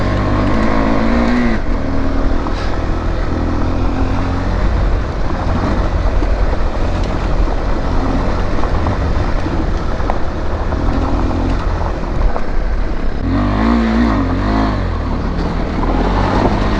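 Vehicle driven fast off-road on a rough mountain track toward Om Parvat near Adi Kailash, with a loud, steady engine roar and rattling, bumping noise throughout and no voices.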